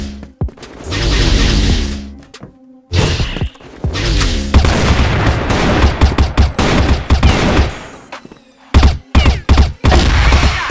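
Borgson gun firing in the video game CrossFire: loud, close bursts of rapid fire broken by short pauses, with heavy booming impacts and no voices.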